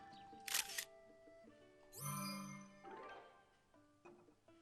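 A camera shutter clicks in Zelda: Tears of the Kingdom, with sharp snaps followed by chiming tones and a bright, sweeping flourish, all crisp and upfront.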